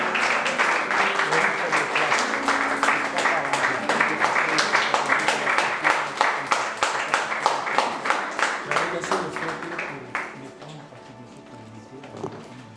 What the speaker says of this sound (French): des cris, des acclamations